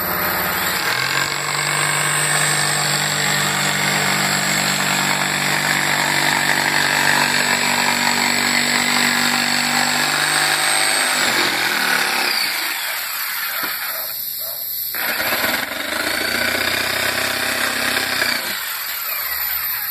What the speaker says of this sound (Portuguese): pegar essa madeira com a tico-tico e vai cortar essa diferença